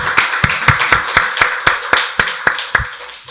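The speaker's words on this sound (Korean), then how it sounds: "박수로 하나님께 영광 돌리겠습니다." Congregation clapping during a Korean church Sunday worship service: about a dozen sharp, evenly spaced claps in a steady rhythm, close and crisp, with nothing else heard.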